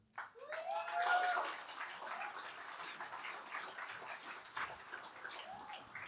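An audience claps after a speech at a Regent Park announcement event, a dense, even patter of many hands that swells at the start and then holds steady, fairly faint and distant.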